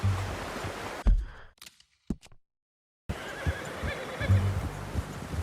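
A horse in Red Dead Redemption 2 neighs and whinnies with clip-clopping hooves amid outdoor ambience, the sound cutting out briefly to near silence midway before the ambience returns.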